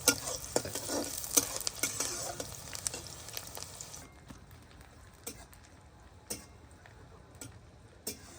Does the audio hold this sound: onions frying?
yes